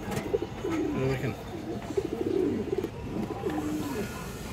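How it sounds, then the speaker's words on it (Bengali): Black-necked female giribaj pigeons at a pigeon seller's, cooing in repeated low, throaty rolling phrases, close and fairly loud, with faint background voices. "একটা কালো গলা মাদি কবুতর"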